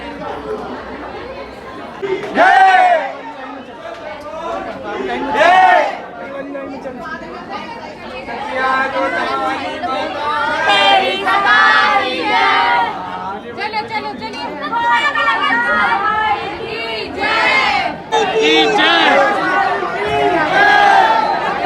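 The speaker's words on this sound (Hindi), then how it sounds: "भाई भीड़ देखो बहुत, ये तो यहाँ पे इतनी सी है, बहुत भीड़ है यहाँ।" Dense crowd at Kalkaji temple, many voices chattering at once, loud and close, with a voice standing out now and then over the continuous babble.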